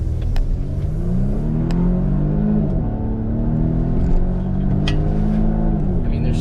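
A Volvo XC60 SUV accelerates hard on a curving back road, its engine rising in a steady revving drone under a continuous road rumble, heard from inside the cabin with a few light knocks from loose items.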